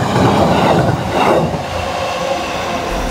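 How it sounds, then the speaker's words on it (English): A train pulls into a station in Japan with a loud, rumbling roll of wheels on track, rising rushes of air and rail noise as it arrives, heard close and without talk. "The train's arriving at the station."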